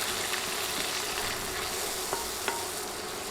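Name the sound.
ground chili, coriander and cumin frying with stirring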